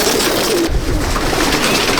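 Pigeons coo in a Kolkata loft, their low burbling calls close and continuous over a rustling, busy background.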